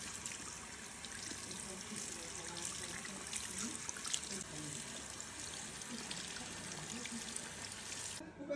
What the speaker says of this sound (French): On va enlever le sachet et rincer abondamment pendant une dizaine